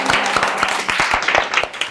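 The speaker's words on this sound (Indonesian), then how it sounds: "Oke, tepuk tangan." Students in a university classroom clapping together, a close, fairly loud burst of irregular handclaps with some voices murmuring through it.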